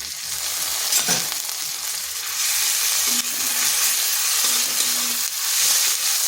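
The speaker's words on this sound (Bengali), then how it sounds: "এটাকে একটু ভেজে নিচ্ছি যাতে আদা রসুনের কাঁচা গন্ধটা চলে যায়" Ginger and garlic paste frying with onions in a pan makes a steady, close crackling sizzle, with a few scraping stirs and no voices.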